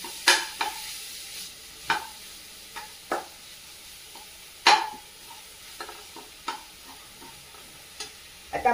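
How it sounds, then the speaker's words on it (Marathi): Ground spice paste sautés in half a spoon of oil for fenugreek theple, a soft low sizzle punctuated by irregular spatula scrapes and taps against the pan, some sharper and louder than others. "व्यवस्थित परतून घ्यायचं."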